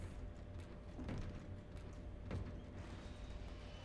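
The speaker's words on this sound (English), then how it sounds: "Longest elevator ride in the history of ever." Steady mechanical rumble and low drone of an elevator ride in the video game Dead Space 2, with faint creaks and clanks rising briefly twice, continuous and moderately loud with no talk.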